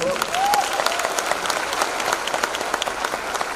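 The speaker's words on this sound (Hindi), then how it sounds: "हमारे सारे टाइटल होल्डर्स के लिए जबरदस्त तालियां प्लीज" An audience at a business presentation in Patna applauds the title holders, a loud, sustained round of dense crowd clapping with a faint whistle near the start.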